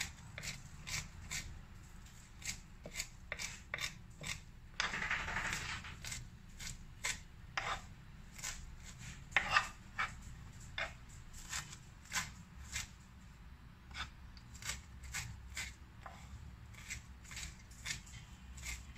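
A knife chopping fresh parsley on a cutting board: quick, crisp, regular cuts close by, with a short sweeping scrape partway through.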